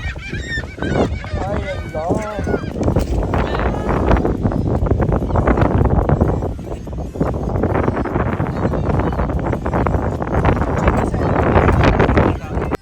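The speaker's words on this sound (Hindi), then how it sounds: "ऊपर से हवा भी इतनी तेज़ चल रही थी" Strong wind buffeting the microphone at a beach, a loud steady roar throughout, with seagulls calling close by in the first few seconds.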